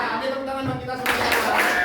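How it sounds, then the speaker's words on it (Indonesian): A class of schoolchildren bursts into broadband applause about halfway through, after a short stretch of quiet classroom room tone, and the clapping carries on fairly loudly to the end. "tepuk tangan buat kita semuanya"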